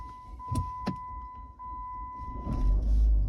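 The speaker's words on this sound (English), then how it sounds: "Yeah, the engine's running." A Jeep Grand Cherokee engine turns over and settles into a low, steady idle rumble near the end, after a few sharp clicks and knocks in a quiet cabin.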